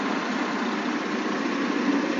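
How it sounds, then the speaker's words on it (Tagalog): A new Shacman truck engine idles quietly nearby, a steady, even low hum with no revving or talk, continuous through the short stretch. "Napakatahimik ng makina mga sadik. Itong bagong model."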